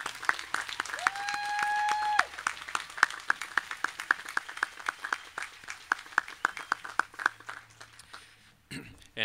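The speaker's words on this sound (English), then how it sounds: "let's give a hearty round of applause for these graduates." Audience applause for graduates at a spring commencement ceremony, scattered claps rising and fading over several seconds, with a sustained whistle-like tone near the start and a brief thump at the end.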